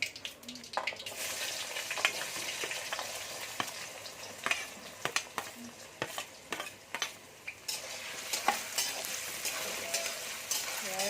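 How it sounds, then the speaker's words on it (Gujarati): Potatoes fry in oil with cinnamon and cloves for Gujarati batata poha, sizzling steadily while a spoon scrapes and stirs the pan in frequent irregular clacks, close and moderately loud with no voices. "બટેટા થોડાક તેલમાં ચડી જાય ત્યાં સુધી આપણે એને ચડાવી લઈશું."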